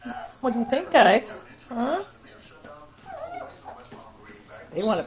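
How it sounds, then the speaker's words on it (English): Six-week-old puppies whimper and yip in high, wavering cries, close by, with a few soft sounds of handling in between. "These puppies want to play, huh?"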